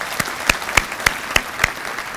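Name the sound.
audience applause at banquet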